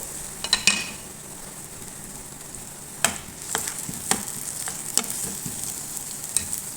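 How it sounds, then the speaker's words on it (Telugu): Chopped onions frying in a spoonful of oil in a kadai on a stove, a steady hiss of sizzling broken by several sharp clinks of a spoon stirring against the pan. "ఒక స్పూన్ ఆయిల్, ఆనియన్ వేసేసుకుందామండి"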